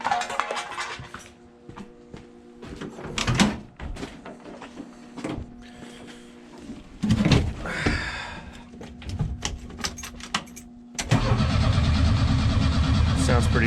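A 1984 Chevette engine, cold after four years sitting, cranks on a fresh battery with a few uneven turns and sputters, then catches and settles into a loud, steady idle; a voice is briefly heard early on.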